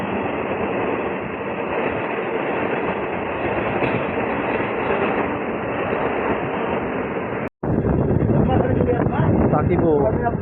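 Azimganj to Rampurhat MEMU local train in motion, a loud, constant rumble and rattle of the carriage and wheels heard from inside, broken by a momentary cut before resuming with rhythmic clatter.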